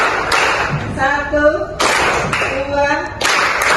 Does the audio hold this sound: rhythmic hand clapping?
yes